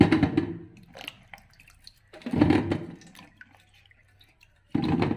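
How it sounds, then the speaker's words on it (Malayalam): Washed nutmeg set in a perforated vessel to drain, with water splashing and trickling through in three separate bursts and quiet gaps between them, close by. "വെള്ളം വാരാനായിട്ട് നമ്മൾ ഈ ഓട്ടപാത്രത്തിലേക്കാണ് വെക്കുന്നത്."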